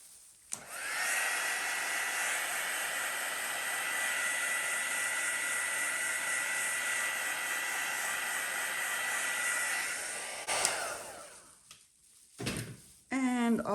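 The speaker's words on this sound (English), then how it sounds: "So I'll just hit that with the heat embossing tool just to bring you up any more cells." A heat embossing tool blows hot air over fluid acrylic pour paint with interference pearl colours on a black base. It makes a steady, loud whooshing whir for about ten seconds, then cuts off, followed by a few short puffs of air.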